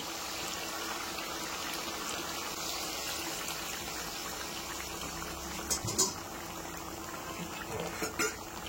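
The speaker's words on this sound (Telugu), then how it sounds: "ఈ మిక్సీ పట్టిన సాస్ మొత్తం దీంట్లో పోసుకుందామండి." Blended tomato sauce pours and bubbles into a chicken curry in a home kitchen pot, a soft continuous liquid gurgle with a few brief clinks near the end.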